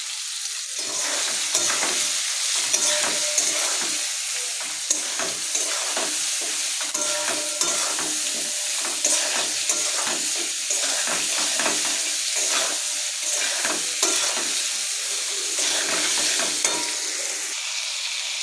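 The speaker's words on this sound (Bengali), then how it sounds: "নাড়াচাড়া দিয়ে একটু ভালো করে ভেজে নিই। সয়াবিনটাও ভাজা হয়ে যাবে আর আলুটাও তো ভাজা হয়ে যাচ্ছে।" Soybean chunks and potatoes frying in a pan, a steady close sizzle running throughout with repeated scraping strokes of a spatula as the pieces are turned and stirred.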